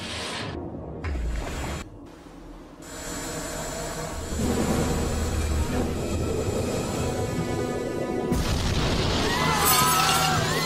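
A documentary sound effect of a torpedo striking the Lusitania: a deep, loud boom and crash gives way to a long, dense roar of rumbling and rushing noise, with a bright, shrill rise near the end and no speech.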